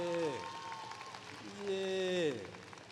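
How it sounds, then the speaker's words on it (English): A high school graduation crowd claps and cheers, with whooping voices rising and falling over a steady wash of applause that swells again midway. "clap it up for them."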